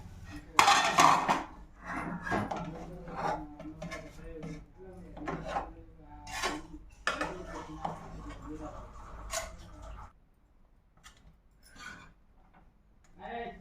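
A lid clanks onto a hot pan after the fish has been fried, followed by clattering pots and utensils, mostly loud and close, with someone talking at times.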